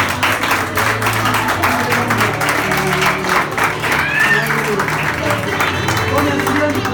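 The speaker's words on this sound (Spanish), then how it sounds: "Den un aplauso fuerte." A church congregation breaks into loud, sustained applause during a Sunday service, dense clapping filling the room while voices speak and call out over it throughout.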